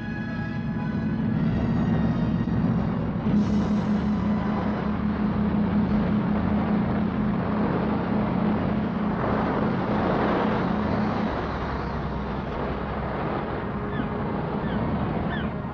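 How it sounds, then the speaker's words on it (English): A high-speed Trinity House pilot launch out of Folkestone powers across the Straits of Dover, its engine a loud steady drone with rushing water and wind noise, easing slightly toward the end. "a high-speed launch from Folkestone takes the Trinity House pilots out to meet Thames-bound vessels"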